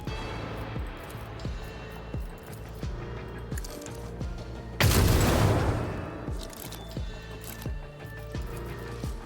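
Explosions in the video game Warhammer 40,000 Rogue Trader: one loud, broad blast bursts midway and decays over about a second, set among repeated sharp clanks and thuds of game combat with a music bed underneath.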